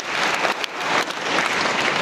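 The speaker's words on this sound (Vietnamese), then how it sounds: "Vỗ tay to lên nè." Audience applause fills a church hall during a Vietnamese Catholic Sunday Mass homily, a steady, dense burst of many hands clapping for about two seconds with no voices over it.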